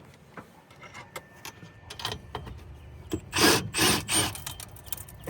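An 11mm socket wrench breaks loose a turbo charge pipe fitting on a first-generation Cummins engine, heard as a few close, rasping bursts of metal working against metal near the end, after quieter scattered knocks.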